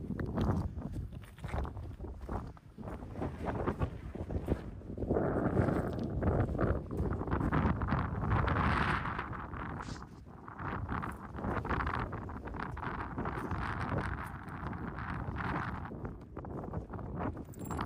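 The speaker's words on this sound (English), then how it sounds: "Can't seem to get away from this wind." Wind gusts across an abandoned desert mine camp, a continuous rough rumble buffeting the microphone and rising and falling in strength throughout, with no talking.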